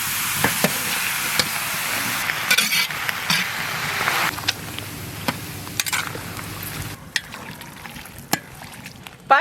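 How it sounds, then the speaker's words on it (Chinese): Pork lard rendering with pork frying in hot fat, a dense continuous sizzle broken by scattered pops and clicks of stirring, close by, with brief quieter stretches. "现在开始炼猪油炸肉"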